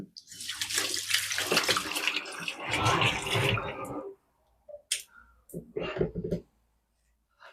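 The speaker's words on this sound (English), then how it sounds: "Let me just rinse my hands." Tap water runs hard over hands being rinsed in a kitchen sink for about four seconds, then stops, followed by short splashes and drips, close and loud, no talk.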